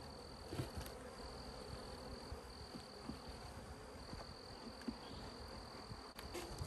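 Honey bees buzz and hum continuously close by at an open hive, a soft, busy drone with scattered faint bumps and rustles.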